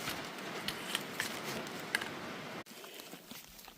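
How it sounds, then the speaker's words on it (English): Heavy rain pours down along the Appalachian Trail near a shelter, a steady, soft, hissing patter that stays quiet and even throughout, with a few sharper drips and taps and no voices. "It's pouring the rain."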